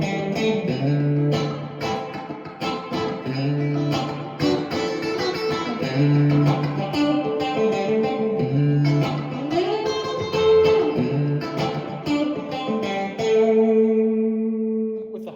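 A Tokai AST 114 electric guitar played on its single coil pickup rings out a melodic run of sustained notes and chords, bright and slightly effected, loud and alone throughout.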